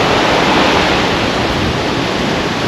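Waves and a small stream running 40 to 50 metres into the ocean at Waterfall Beach, Western Australia: a loud, constant wash of surf and rushing water with wind, unbroken and close.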